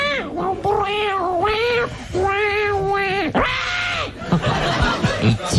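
A voice imitates cats meowing a tune, Au clair de la lune, as if played on a cat organ: a string of loud, close, pitched meows rising and falling in melody, ending with a little laughter.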